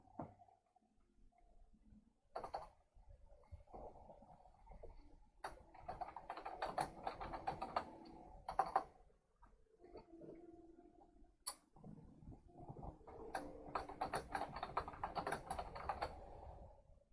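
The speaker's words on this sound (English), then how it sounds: "I'm going to type the titles of the cards on screen" Quiet keyboard typing in irregular bursts of clicks and taps, with short pauses between runs of keystrokes, close and soft, no voices.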